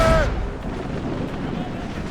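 Ship cannon and mortar fire in a naval battle in Assassin's Creed Rogue: a heavy low boom opens, then a rolling rumble of battle noise carries on beneath, with a shouted order briefly cutting through at the start.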